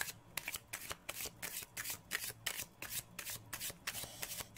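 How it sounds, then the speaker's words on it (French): Oracle cards are shuffled by hand for a card reading, giving a steady run of soft, rapid riffling bursts in a regular rhythm, close but quiet, with no voice. "Je vais conclure par une carte conseil, Karine, avec l'oracle de l'âme."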